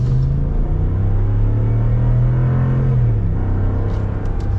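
A lifted 2022 Ram 1500 Black Widow pickup truck accelerating, a loud steady engine rumble with a droning low tone that dips near the end as the revs settle, heard alone without speech.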